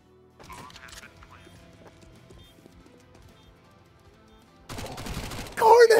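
Gunshots go off in a short burst, first faint and scattered, then louder and denser bursts near the end, with excited shouting mixed in.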